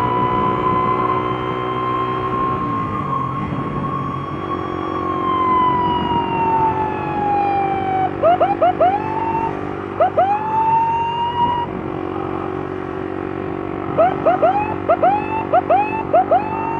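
A wailing escort vehicle siren sweeps up and down on a street, loud and close, with short yelping bursts repeating toward the end.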